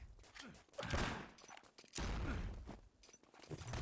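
Rapid gunfire bursts and headshot impacts in the shooter game Enemy Territory crackle in two dense volleys, with thuds and mechanical clatter in between.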